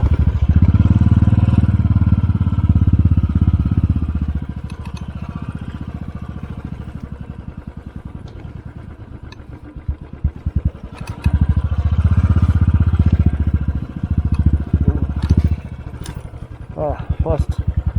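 A motorcycle rides slowly over ice on a high-altitude mountain route in North Sikkim, its engine loud and close, revving and easing off in surges with clattering bumps, while a rider talks over it.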